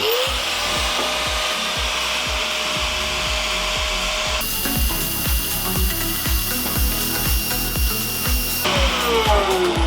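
A Makita GA5030 angle grinder running without its nut whines steadily at high speed with a rhythmic low thumping wobble underneath, loud and close, its pitch shifting partway through.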